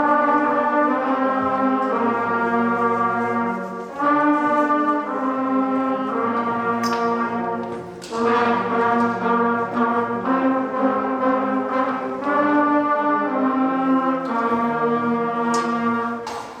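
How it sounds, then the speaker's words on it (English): A beginner brass band plays Hot Cross Buns, with sustained, slightly wobbly unison notes in the simple three-note tune, repeated in phrases separated by brief pauses and heard clearly with no talk. "Let's hear it for the Grass family on hot cross buns"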